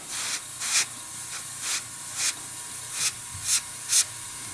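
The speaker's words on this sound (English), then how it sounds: "So if I leave the airbrush, or if I leave the stream of paint in any one area, it's going to start pooling up." An airbrush sprays paint onto a scale model tank, giving a continuous airy hiss broken by a series of brief, louder spray bursts at regular intervals, with no voices.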